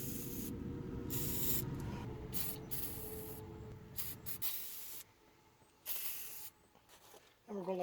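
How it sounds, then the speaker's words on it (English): A WD-40 spray can, used during GMT400 truck front suspension removal, hisses in several bursts, one long spray followed by shorter intermittent squirts, close and loud, with brief pauses between. "Might as well get some WD-40."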